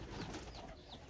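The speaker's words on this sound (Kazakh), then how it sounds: "Бір қора кептер ұшады екен ғой" Pigeons cooing softly in a loft of domestic pigeons, low rolling coos repeating over a faint background hum, heard at a modest distance with no voices.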